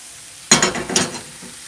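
Wild foraged mushrooms dry-fry in a pan with no oil, a brief close burst of sizzling and stirring that starts abruptly and fades within a second.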